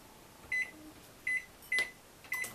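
A microwave oven's keypad gives four short, clear electronic beeps, evenly spaced and fairly close, over a quiet room background with no talking.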